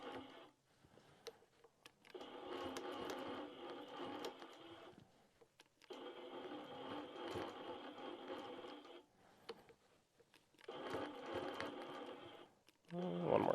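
A sewing machine quilting a Big Tex belt buckle design runs in three sustained stretches of steady whirring stitches with short pauses between them, fairly quiet, with a person speaking in the gaps.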